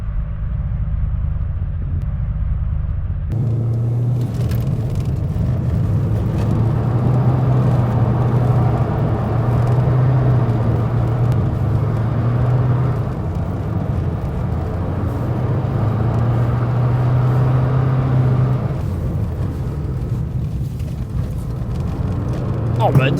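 Subaru car driven hard on a track, a steady loud engine drone with rising and falling tone as it brakes into corners and accelerates, heard from inside the cabin while occupants talk over it.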